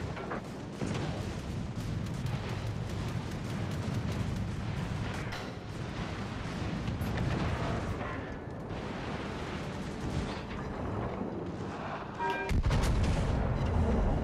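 Secondary battery guns firing in World of Warships: Legends aboard the battleship Republique, a dense barrage of rapid booming shots rolling on continuously, loud and close, with a heavier blast near the end.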